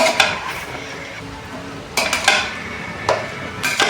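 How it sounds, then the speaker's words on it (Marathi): Mutton curry being mixed in a cooking pot, with a few scraping and clinking strokes of a spoon against the metal that come in short bursts between quieter stretches. No one speaks. "आता याला आपण व्यवस्थित असं मिक्स करून घेऊया"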